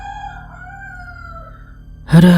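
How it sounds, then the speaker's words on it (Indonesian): A rooster crows at 3 a.m.: drawn-out tonal calls trail off, then a loud, close crow bursts in abruptly at the end. "Dan Mas Nara rekaman sambil balapan dengan ayam berkokok karena ini jam sudah menunjukkan 3 pagi."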